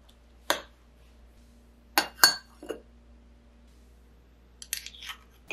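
Chopped onion, lemon juice, salt and vinegar being mixed in a small container, heard as a few sharp clinks and light taps in short separate bursts against a quiet background.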